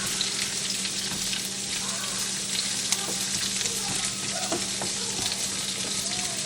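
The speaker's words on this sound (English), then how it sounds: "So we're going to let these saute first before we add anything else." Garlic sautés in a pan with a loud, dense, continuous sizzle and occasional stirring scrapes close by, with no talking over it.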